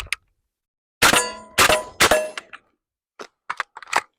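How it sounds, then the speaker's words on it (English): An empty AR-15 magazine drops from an MDRX bullpup rifle, followed by sharp metallic clangs and clatters as magazines are swapped and the charging handle is worked. Three loud bright impacts are followed by several lighter clicks, close-up and with no speech. "So there's our mag drop."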